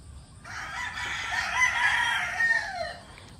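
A rooster crows once, a long drawn-out call rising and trailing off, loud and near with little else around.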